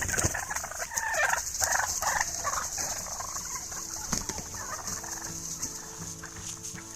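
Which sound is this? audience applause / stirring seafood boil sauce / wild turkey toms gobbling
wild turkey toms gobbling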